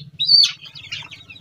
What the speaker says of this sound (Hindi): कुछ मुर्गियाँ देखिए खेल भी रहा है एक दूसरे के साथ, देखिए लड़ाई भी लड़ रहा है